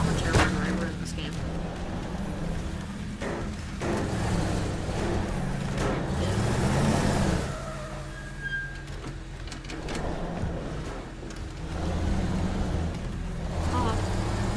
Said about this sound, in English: Why is this truck so fast?